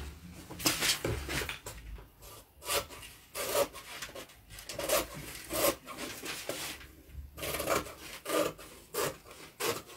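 Scissors cut the front piece of a coat pattern, making quiet, rhythmic rasping snips across paper or fabric, close by and without talk.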